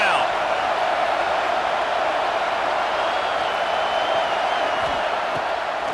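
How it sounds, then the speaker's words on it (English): A stadium crowd in College Football 26 makes a constant broad roar on third down, a dense wash of voices holding steady and loud throughout. "Decibels rising as the crowd gets behind this defense on 3rd down."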